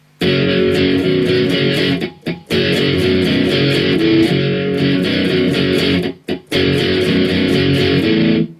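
Loud, sustained distorted electric guitar playing a repeating riff from the interlude of a song, with two brief pauses where the sound cuts out before resuming.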